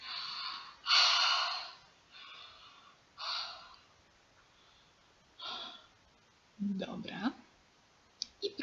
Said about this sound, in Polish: szeroko ziewamy.